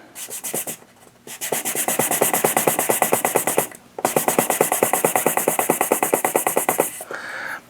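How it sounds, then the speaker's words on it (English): A saxophone reed rubbed back and forth on paper gives a rhythmic, raspy scraping in fast regular strokes, close and loud, with two short pauses and no talking. "rub the reed on the paper like this"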